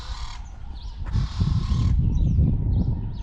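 Crows caw and birds call along a quiet residential street in Loxton, a small Karoo village in South Africa, over a steady low rumble of wind, with a few brief calls rising above it.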